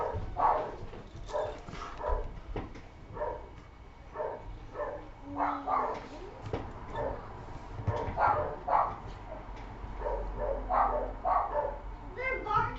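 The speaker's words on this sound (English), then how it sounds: "They're barking because of the neighbors." Several dogs bark at neighbors outdoors, with repeated sharp barks and yips in irregular bursts over about twelve seconds, some nearer and some farther off, alongside occasional whimpers and background voices.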